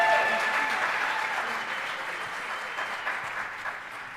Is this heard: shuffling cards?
no